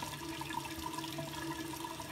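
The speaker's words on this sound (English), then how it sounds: "Go to the sink, add water." Water runs steadily from a sink tap into a shaving lather bowl, a continuous soft hiss and splash at close range with no talking.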